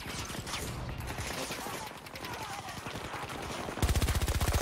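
Rapid automatic gunfire in the shooter game Battlefield 2042, dense bursts running throughout and swelling into a louder, sharply pulsing stream of shots near the end.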